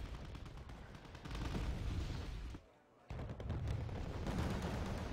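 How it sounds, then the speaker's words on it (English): Heavy artillery fire in Wargame Red Dragon, a dense continuous rumble of distant booms and crackling gunfire that briefly drops out midway before resuming at full strength. "we're receiving pretty heavy artillery"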